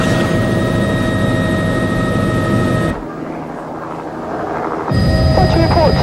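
A helicopter engine runs loud and steady with a strong rotor drone at an airfield, drops off sharply to a quieter rumble for a couple of seconds, then returns at full strength.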